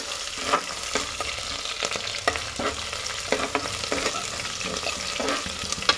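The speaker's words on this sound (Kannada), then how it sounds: "ಈರುಳ್ಳಿ ಎಲ್ಲ ನೀಟಾಗಿ ಕೆಂಪಾಗೋ ರೀತಿ ನೀವು ಫ್ರೈ ಮಾಡ್ಕೋಬೇಕು" Onions fry in a pan for a dish of bottle gourd stir-fry, a loud steady sizzle with repeated scraping stir strokes throughout, close up and without voices.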